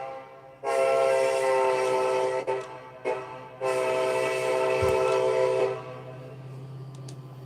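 A GE Evolution (GEVO) diesel locomotive in a train simulator game sounds its horn close by in a long-short-long pattern of loud, sustained chords over a low engine rumble that continues after the horn stops.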